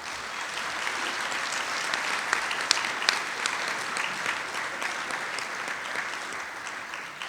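Sustained audience applause at a hockey hall of fame induction speech, steady dense clapping throughout with no voices over it.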